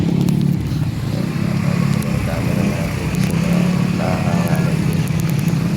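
A motorcycle engine drones steadily up close with a low rumble, mixed with road noise as it rides along.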